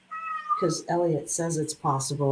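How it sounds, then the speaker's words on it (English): A cat meows several times in a row, drawn-out mid-pitched cries close by, with a person speaking over and between the meows. "You can hear him meowing and telling you it's possible."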